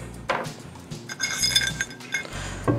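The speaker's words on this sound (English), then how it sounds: "I'm gonna grab the headset." Metal parts of a scooter headset being picked up and handled, giving several light clinks and small rattles spread over a few seconds, close and fairly quiet.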